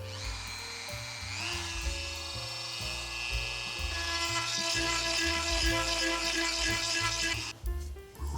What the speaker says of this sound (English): I'm gonna hit it with this Dremel tool real quick so I can get the pipe in